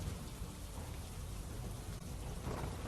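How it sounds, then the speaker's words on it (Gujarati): Heavy rain pours over Veraval town in Gir Somnath district, Gujarat, a dense, continuous roar of falling water with a low rumble beneath, steady throughout and without any voices. "વેરાવળ શહેર અને ગ્રામ્ય વિસ્તારોમાં વરસાદ છે"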